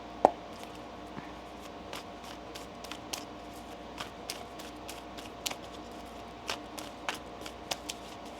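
Tarot cards are shuffled close by in a quiet room, giving a soft continuous riffle with scattered light taps and flicks and no voices.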